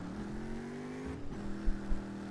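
An inline-six car engine in the game CarX Drift Racing hums at a steady pitch, then briefly revs and shifts, with a synthetic, game-like tone and no voices.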